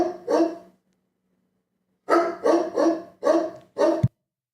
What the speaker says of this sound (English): Excuse my dog. He had a statement to say,